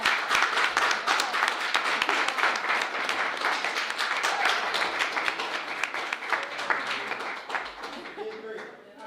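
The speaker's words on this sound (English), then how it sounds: "I just would ask for one more round of applause for all of the kids." A full round of applause for the children at a community project showcase, many hands clapping densely and steadily throughout, loud and close, with some voices mixed in underneath.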